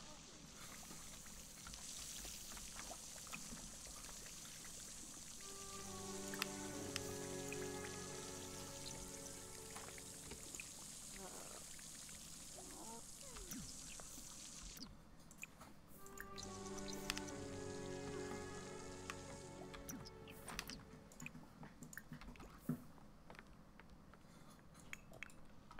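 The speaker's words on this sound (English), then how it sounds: "Just take a quick shower." A shower runs in The Sims 4, a faint, steady spray of falling water with scattered drips, underneath game music and a person talking.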